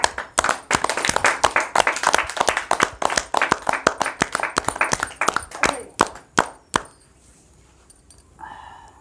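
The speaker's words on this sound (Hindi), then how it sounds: "और ताली।" A small group claps steadily at an indoor cake-cutting celebration for a young child. The rapid, close applause lasts about seven seconds, then thins to a few last claps and fades out.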